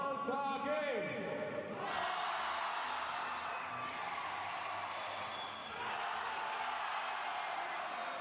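A large crowd in a gymnastics arena at the 2017 World Games in Wroclaw roars and cheers loudly, a dense sustained wall of voices that swells after a brief announcer-like voice at the start.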